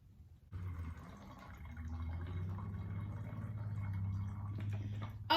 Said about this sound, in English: We're gonna pour a little bit of peroxide into this bottle.